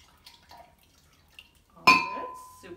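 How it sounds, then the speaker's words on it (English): Liquid poured from a measuring cup into a bowl of eggs while making breakfast gives a short splash and clink near the end, following quiet talk. "can you go ahead and pour that in with the eggs?"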